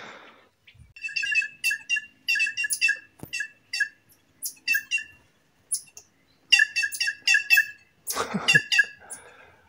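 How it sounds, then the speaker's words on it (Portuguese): Plush-crested jays call repeatedly in a forest, a series of loud, close, rapid chattering and whistled bursts separated by short pauses, with one harsher call near the end and no talking. "Gralhas cancãs aí. Me denunciando aí pra mata todinha."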